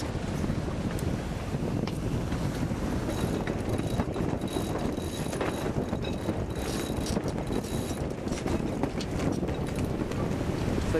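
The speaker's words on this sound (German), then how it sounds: "Das ist ein geiler Wind, oder?" Wind buffets a sailboat out on the Baltic Sea, a steady rushing roar over the microphone mixed with faint creaks and rattles of rigging, with no voices.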